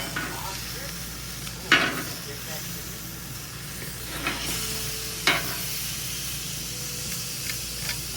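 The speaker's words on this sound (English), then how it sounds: "This steak's cooking pretty well." A seasoned steak sizzles in a pan with a steady, hissing fry, broken by a few sharp clinks or scrapes.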